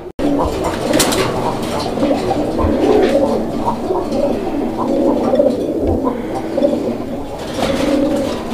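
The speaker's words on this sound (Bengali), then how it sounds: "তো দর্শক আপনারা ডাক দেখতে পাচ্ছেন কবুতরের। এই যে দেখেন কীভাবে ডাকে" A pair of Rajgolla pigeons coo close by in a repeated, throaty rolling rhythm that carries on throughout, with faint background murmur.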